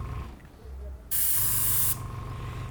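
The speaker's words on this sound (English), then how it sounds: "Okay, that's spraying quite well." An airbrush sprays paint onto a sheet of paper, a single steady hiss lasting under a second that starts and stops abruptly over a faint low background hum.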